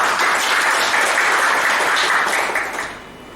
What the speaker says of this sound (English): give our table topics master a big round of applause.